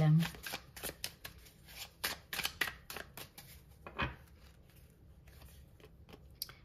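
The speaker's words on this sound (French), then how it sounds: "le temps que je range mes cartes" Tarot cards being gathered and put away, heard as quick papery shuffles and flicks in irregular bursts, close and moderately loud, with a person talking alongside.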